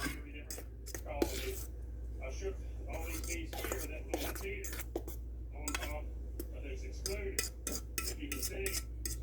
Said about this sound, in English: So now I'm going to get my pan heated up.